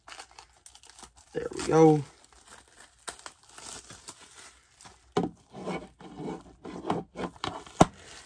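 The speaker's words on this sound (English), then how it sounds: "So we get the plastic wrap off." Plastic shrink wrap being peeled off a DVD case, with a burst of loud crinkling and tearing near the start followed by scattered rustles, scrapes and handling clicks at close range, while a person speaks briefly.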